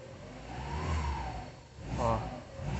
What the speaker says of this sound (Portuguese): Esperar um pouco para dar umas aceleradas.